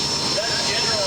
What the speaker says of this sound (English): Four T55 turbine engines.